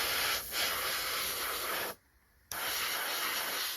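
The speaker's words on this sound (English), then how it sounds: "Airbrush is lovely. Spray's no problem." An airbrush sprays AK paint onto a 1/72 scale Matchbox Wellesley Mk.1 model kit, giving a steady, close airy hiss that cuts out briefly for about half a second before resuming.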